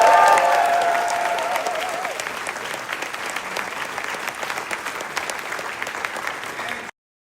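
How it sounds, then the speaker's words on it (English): Crowd at a political youth rally in a downtown Marriott ballroom applauding, a broad wash of clapping that swells at first, settles into steady applause, then cuts off abruptly. "Give her a big round of applause."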